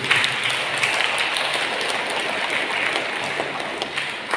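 Congregation at a Tamil Catholic Sunday Mass applauding together, a dense, steady wash of many hands clapping that fills the church evenly throughout, with no voices over it.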